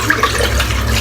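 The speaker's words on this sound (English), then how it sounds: "There we go, that's the brush rinsed out." Steady water running from a tap while a brush is rinsed clean, a loud continuous close-up splash and hiss with no voices.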